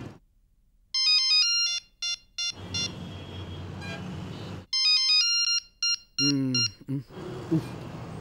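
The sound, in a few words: phone ringtone ringing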